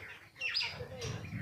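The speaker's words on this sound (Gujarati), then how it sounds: "જો અહીંયા ચકલા કેવા ખાય છે" House sparrows eating grain outdoors in a village chirp faintly and at some distance, a few brief tweets over low background hum, with no speech.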